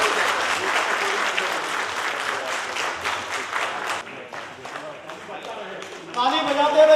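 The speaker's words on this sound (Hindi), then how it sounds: "हम लोग खड़े होकर जोरदार तालियों से स्वागत करें उनका" Audience at a book release ceremony applauding to welcome a guest, dense continuous clapping from a seated crowd that thins and softens, with voices joining near the end.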